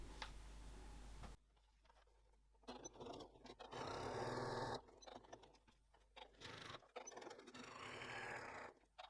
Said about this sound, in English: I'm going to top stitch both of those.